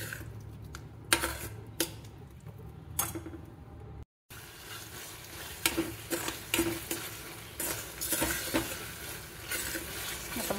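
A spoon stirs masala in a pan over a low gas flame, giving repeated scraping and clinking strokes against the metal under a soft, steady sizzle; a brief silent gap interrupts partway, and no one talks.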